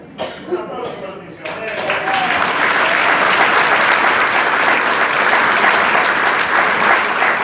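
A church congregation at a Patagonian worship gathering breaks into applause after a brief stretch of talk, building to loud, sustained clapping that fills the rest of the moment.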